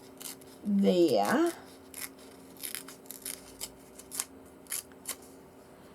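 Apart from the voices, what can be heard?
paper being torn across for a junk journal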